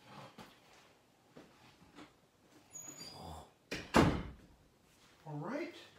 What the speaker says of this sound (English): Y'all give me just a minute to close this bedroom door.